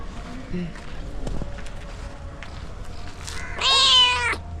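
A cat meows loudly and close by near the end, a single drawn-out call on an outdoor walk along the coast, after a stretch of quiet street noise and faint talk.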